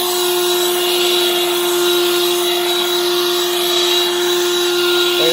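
A Harbor Freight Lynxx 40 volt cordless leaf blower runs at a high setting, giving a steady, loud electric whine with a strong airy rush that holds constant and alone for the whole stretch.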